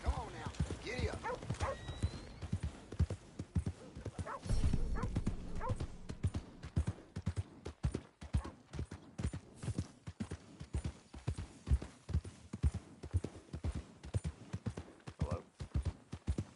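Horse hooves galloping in the video game Red Dead Redemption 2, a fast, rhythmic clip-clop that runs throughout at moderate level, with a brief whinny and a dog barking early on.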